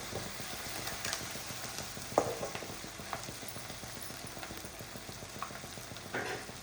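Egg chammanthi mixture frying in a pan while being stirred slowly, a soft continuous sizzle with scattered scraping and clinking stirs at irregular intervals, fairly quiet.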